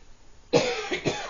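A single short cough, then a couple of smaller throat-clearing bursts, close and fairly loud against near silence.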